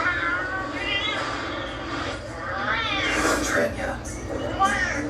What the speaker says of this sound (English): A talking cat.